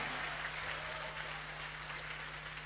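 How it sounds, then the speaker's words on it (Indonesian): An audience at a campus oration claps in a dense, even patter. The applause is faint and distant over a low electrical hum and lasts the whole moment. "Aplaus buat kita semuanya."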